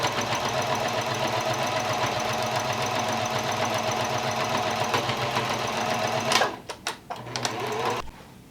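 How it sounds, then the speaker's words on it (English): Up close, a sewing machine runs at a steady, even whir as it stitches through two layers of fabric and elastic. Near the end the motor stops and starts a few times, followed by brief handling clicks. "sewing through the 2 layers of fabric and the elastic"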